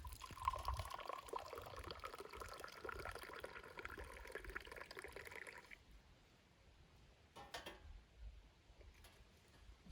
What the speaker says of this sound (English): I'm gonna go ahead and pour a few glasses and mix it again